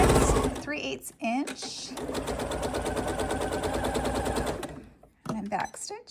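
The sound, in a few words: sewing machine stitching straps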